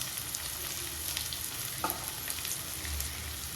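Noodles fry in a pan with chilli powder and garam masala being stirred through, giving a steady close sizzle with a brief scrape of the spoon partway through.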